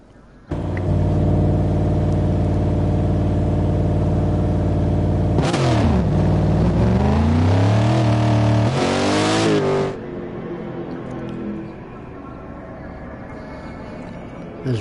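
A racing car in a PS4 racing game at Suzuka pulls onto the track for a warm-up, its engine droning loud and steady before revving up and down through gear changes, then fading off as it moves away.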